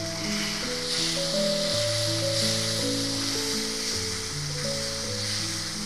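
A ground paste of green chili, cashew and tomato sizzles steadily in a hot pan, a soft hiss under a background of music.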